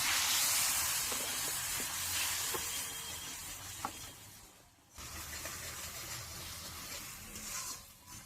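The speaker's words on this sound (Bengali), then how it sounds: "এইবার মশলাটাকে ভালো করে কষিয়ে নেব" Spice paste with Kashmiri chilli and salt frying in a pan, giving a continuous soft sizzle and hiss with a few faint stirring scrapes and a brief dip midway.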